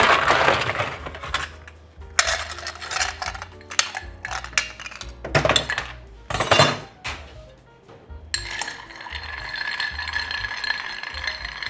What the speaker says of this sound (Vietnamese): giờ mình cho đá vô mình khuấy lên